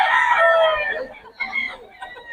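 A stag gamecock of the Sure Brown Red line crows once, loud and close, a long strained call that trails off, followed by faint murmurs and low clucks.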